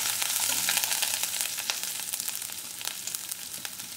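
Curry leaves, green chili and ginger sizzle and crackle steadily in a hot oiled pan, with scattered sharp pops over a continuous frying hiss, close and alone.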